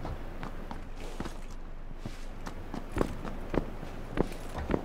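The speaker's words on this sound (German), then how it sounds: "Ich höre Schritte. Unter uns." Footsteps in PUBG moving on the floor below the players, soft repeated thuds spaced irregularly under a steady wash of in-game ambience, with a few sharper steps standing out near the end.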